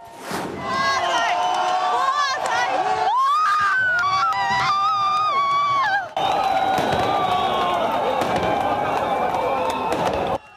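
Crowd cheering with fireworks bangs as a Lenin statue is pulled from its pedestal by rope in central Chernihiv, Ukraine; loud, dense outdoor noise with shouts and whistles running throughout.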